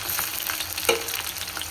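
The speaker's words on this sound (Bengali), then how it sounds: "এবার কচুগুলোকে ভাজবো, আলুগুলো ভাজবো" Taro and potato pieces fry in leftover hilsa fish oil, making a busy close sizzle with a brief stirring scrape near the middle, all within under two seconds and without talking.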